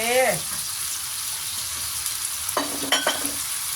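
Fish and snow peas are stir-fried in a pan, giving a steady close sizzle with a few scraping stirs. A brief voice is heard at the start.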